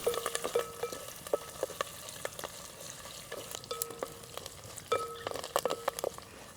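Garlic and curry leaves splutter in oil for garlic rasam, a quiet frying hiss studded with many sharp, irregular pops and crackles, close by, with no talking.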